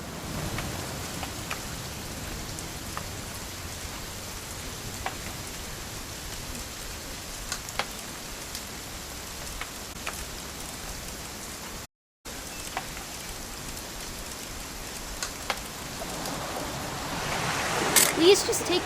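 Steady rainfall in the video game What Remains of Edith Finch, a constant soft patter with occasional faint drops and a slight swell toward the end.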